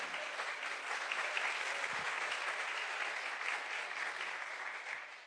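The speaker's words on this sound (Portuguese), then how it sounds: "vamos aplaudir ao Senhor" A church congregation applauds in steady, dense clapping that fills the room, moderately loud and continuous, tapering slightly at the end, with no voices over it.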